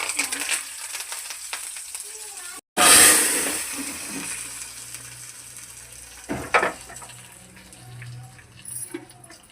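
Spices tempering in hot oil for tomato rasam, a loud burst of sizzling and spluttering after a brief silence, settling into a steady lower fry with occasional stirring clinks.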